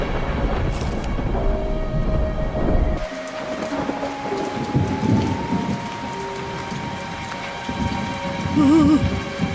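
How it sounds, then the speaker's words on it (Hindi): Steady rain falls in an animated cartoon scene, a continuous hiss with low rumbling layered under music and sound effects, rising louder toward the end. "अरे ये क्या हो रहा है? काली बरसात?"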